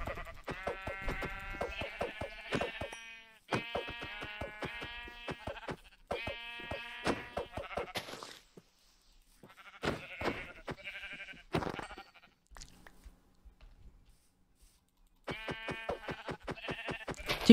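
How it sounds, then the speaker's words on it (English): Sheep in Minecraft bleat repeatedly in short, tonal bursts, several calls in quick clusters separated by brief quiet gaps, fairly loud and close. "I couldn't be happier that I just found freaking 4 sheep."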